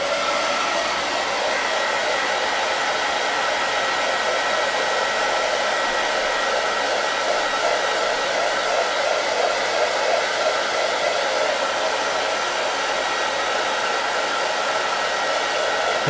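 A handheld drying tool blows steadily over embossing powder on a chalk-couture foil project, a loud unbroken whooshing hiss lasting throughout.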